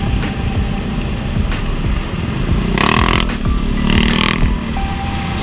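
A motorcycle with a hard-starting engine and low idle runs close by in a continuous rough drone, with a few brief higher bursts as the throttle is blipped.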